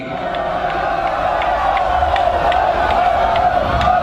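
A large crowd bustles and shouts as a convoy approaches in Ghana, with a dense, steady roar of many voices and scattered whoops and cheers throughout.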